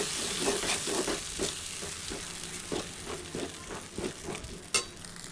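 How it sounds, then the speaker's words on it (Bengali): Cashew, poppy seed and melon seed paste frying with spices in a pan for a vegetarian white paneer curry, a steady close sizzle with repeated scraping stir strokes and one sharp clink near the end. "তো এরপর এটিকে কিছুক্ষণ কষিয়ে নিচ্ছি এই মশলার সঙ্গে ভালো করে।"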